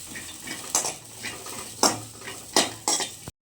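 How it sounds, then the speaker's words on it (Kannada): Cut okra fries in a pan while a metal spoon stirs it, scraping and clinking against the pan in about six sharp strokes over a soft sizzle, with no talking. "ಅದಕ್ಕೆ ಕಟ್ ಮಾಡಿ ಇಟ್ಕೊಂಡಿರೋ ಬೆಂಡೆಕಾಯಿ ಹಾಕ್ಕೊಳ್ಳಿ. ಒಂದು 2 ಮಿನಿಟ್ಸ್ ಫ್ರೈ ಮಾಡ್ಕೊಳ್ಳಿ."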